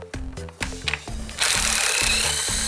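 Ratchet clicks and metallic taps from a 10mm socket wrench loosening valve cover bolts on a Dodge Charger 3.5 V6, a short run of close, rhythmic clicks before a steadier broadband hiss takes over.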